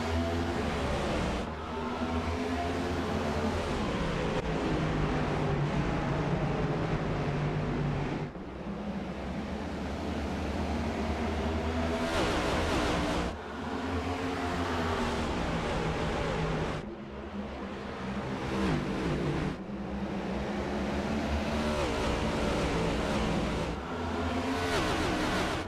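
NASCAR Next Gen Cup race cars lapping the Iowa oval in a racing video game, a steady dense engine roar of the pack that swells and dips in repeating waves as cars pass, loud and continuous without talk.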